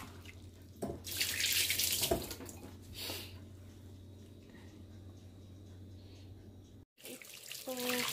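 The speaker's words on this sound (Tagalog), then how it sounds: "Hugasan muna natin ito." Water spinach is washed under a running kitchen tap, with a steady close gush of water broken by splashy bursts as the leaves are handled, a brief cutoff near the end, then the flow resumes.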